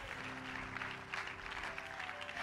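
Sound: congregation applause

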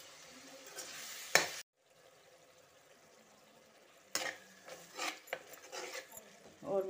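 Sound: tomatoes frying in a pan for matar biryani

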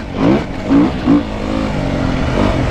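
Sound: Beta Enduro RR 2017 motorcycle engine accelerating in third gear

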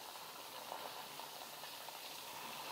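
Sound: nippattu frying in deep oil

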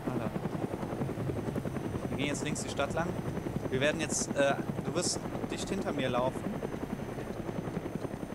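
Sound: helicopter flying overhead in the video game DayZ

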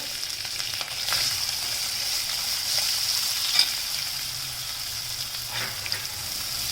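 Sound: onions frying in pan with cumin and turmeric

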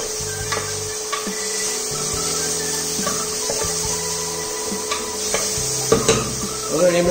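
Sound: stirring food in a pan for biryani

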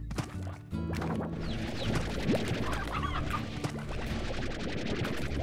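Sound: chickens clucking in the video game Slime Rancher

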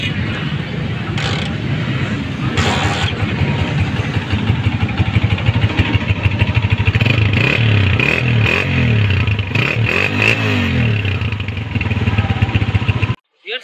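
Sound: motorcycle engine running, used bike at bike market

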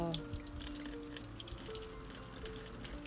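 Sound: running tap water washing hairtail fish innards

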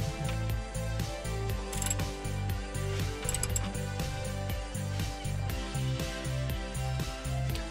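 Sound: 17mm socket wrench ratcheting to tighten oil drain plug

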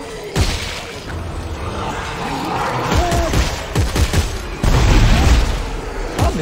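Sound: secondary weapon firing in the video game Dead Space 3

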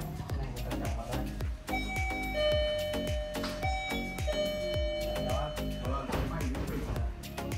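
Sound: hotel room doorbell rung by luggage delivery staff

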